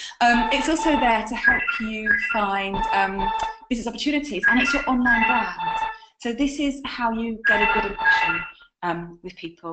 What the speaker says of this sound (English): excuse the phone, so I forgot to unplug that